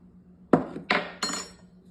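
Cornstarch and cold water being stirred together in a dish, heard as three sharp, close clinks spaced about a third of a second apart, each ringing briefly over a quiet background.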